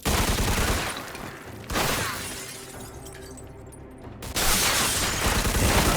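Gunfire in the video game Mafia 2: loud, dense bursts of shots with shattering, breaking-glass crashes, coming in three heavy waves across a few seconds.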